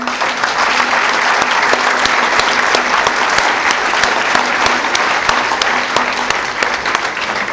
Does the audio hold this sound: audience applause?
yes